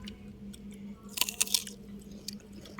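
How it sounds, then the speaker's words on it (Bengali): Someone crunches and chews fresh guava with its skin on, heard outdoors on a village rooftop in the afternoon: a few close, crisp bites and squishy chewing sounds over a low background hum. "ওরা পেয়ারা খাচ্ছে"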